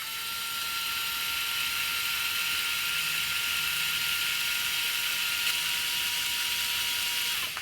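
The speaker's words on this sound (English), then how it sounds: "we're going to run it in forward, and we're going to see how fast it goes" A Craftsman 4V MAX cordless screwdriver runs forward in a steady, continuous high-pitched whir, close and loud for the whole span with no talking.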